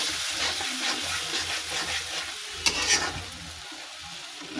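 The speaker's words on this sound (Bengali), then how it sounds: "জল দিয়ে মশলাটাকে ভালো করে কষিয়ে নেব" Egg curry spice paste cooks in a pan with a splash of water, giving a loud, continuous sizzle broken by scraping stirs and one sharper burst partway through.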